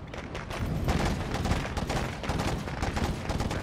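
Gunfire in a speedrun of a video game, a dense, continuous volley of loud rapid shots with no talking.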